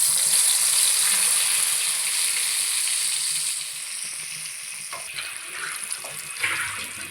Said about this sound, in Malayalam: എണ്ണ ചൂടായി നമുക്ക് വഴുതനങ്ങ കുറേശ്ശെ ഇട്ട് വറുത്തെടുക്കാം.